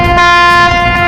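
A departing Star Shipping Lines ship at the Port of Lucena sounds one loud, sustained horn blast, deep and strongly tonal, close by.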